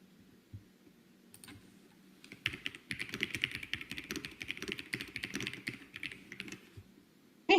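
Clicky computer keyboard typing in a fast, dense run of keystrokes, close and fairly loud, starting with a few scattered taps before settling into steady rapid clatter, with no voices.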